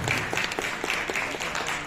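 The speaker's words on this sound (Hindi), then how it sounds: "एक जोरदार ताली हो जाए भैया।" A crowd claps in a brisk, dense burst at a public gathering with Pawan Singh, the applause steady and fairly loud throughout, with no voice over it.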